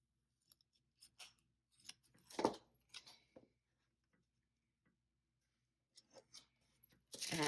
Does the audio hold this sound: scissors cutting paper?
yes